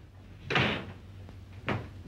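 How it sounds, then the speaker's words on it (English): A door shuts in a 1936 black-and-white comedy film: two short, dull knocks about a second apart, the first louder and longer, over a low steady hum. "Close that door!"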